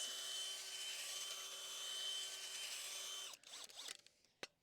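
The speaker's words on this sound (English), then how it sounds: "I'd like to use my auger again and just give this a good mix." A handheld auger drill churns soil and compost in a planting hole for a Storm Cloud amsonia, a steady close grinding whir for about three seconds that cuts off into scattered scraping and rustling.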